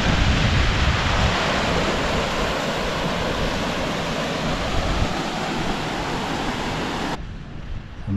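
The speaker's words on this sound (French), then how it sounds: "Magnifique petite cascade." Small mountain waterfall on the climb toward a lake in the Vallée de la Clarée near Névache, a steady, close, broadband rush of falling water that holds constant before dropping away sharply near the end.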